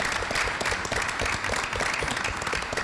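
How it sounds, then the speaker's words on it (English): Brief burst of audience applause for event staff at a legislative panel gathering, thick continuous clapping that stays at one level for a few seconds. "let's give a round of applause to the RCA staff for a really good job"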